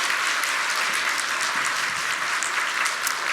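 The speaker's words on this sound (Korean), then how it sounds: "수료증이 전달될 때 큰 박수로 축하해 주시기 바랍니다" An audience gives sustained, dense applause at a church faith-training graduation ceremony as completion certificates are handed out; the clapping is steady and fairly loud.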